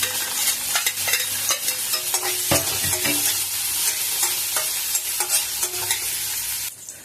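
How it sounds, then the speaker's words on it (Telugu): Chopped onion pieces fry in hot oil for a carrot fry, a close, steady sizzle broken by frequent spatula scrapes and clacks against the pan, with no talking. "ఆయిల్ మనకు వేడెక్కాక ఒకటి కట్ చేసుకున్న ఉల్లిపాయ ముక్కలను వేసుకోవాలి."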